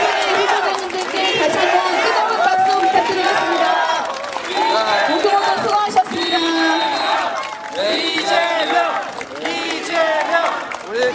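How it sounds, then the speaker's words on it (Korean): At a political rally in Pyeongtaek, a large crowd cheers, shouts and claps continuously for three candidates, with a loud, dense roar of voices sustained throughout and applause mixed in. "여기 계신 세 분의 후보자님들께 다시 한번 뜨거운 박수 부탁드리겠습니다"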